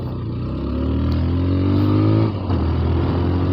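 A modified motorcycle engine revs loudly and close for a few seconds, a rough throbbing roar that dips briefly and then picks up again.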